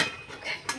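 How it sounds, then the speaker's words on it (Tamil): A lid set onto a cooking pot in a home kitchen while making rava puttu, a couple of quick metallic clinks and scrapes, close and fairly quiet, with no speech. "மூடி போட்டுறேன்"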